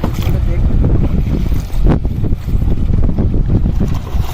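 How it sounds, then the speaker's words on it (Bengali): A boat motor rumbles past at close range on a river in the Sundarbans, loud and continuous, with wind buffeting the microphone. "আমাদের পাশ দিয়ে একটা বোট বেরিয়ে যাচ্ছে"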